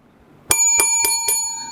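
A small hand bell rings four times in a steady rhythm, each strike bright and ringing with a sustained metallic tone, close and clear over a quiet room.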